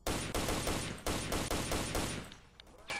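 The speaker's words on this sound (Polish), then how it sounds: "Kto to do mnie strzela?" Rapid gunfire in the shooter game Stalker Lost Alpha, loud repeated bursts of automatic shots in quick succession that thin out and pause near the end before another shot.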